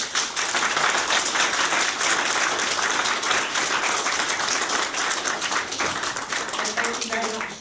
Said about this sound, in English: And so if we just give one final round of applause.